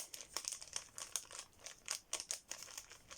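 A paper envelope from an Advent calendar is torn and handled up close, with quiet crinkling and short ripping bursts in an irregular rhythm, no voices.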